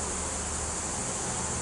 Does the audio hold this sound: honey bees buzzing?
yes